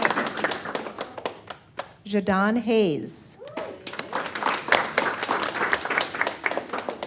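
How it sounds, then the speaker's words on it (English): Scattered clapping from an audience at a school board meeting honoring students runs under a man reading names aloud, with a short sung or drawn-out vocal in the middle. "Let's clap anyway"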